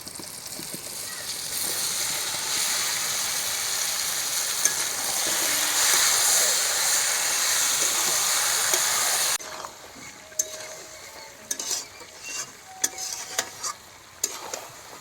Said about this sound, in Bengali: এবার ভেজে রাখা আলু আর মাংস দিয়ে কষাবো।